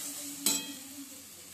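Roasted eggplant and tomato hitting a hot pan, a single sharp clatter of a spoon followed by a soft sizzle that fades.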